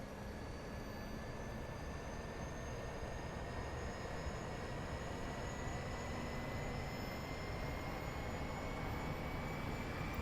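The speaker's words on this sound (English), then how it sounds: "Should be able to hear the APU start up out here." An Airbus A320 auxiliary power unit spins up in a flight simulator, a steady, even whine and roar with rising tones that holds for the whole stretch with no talking.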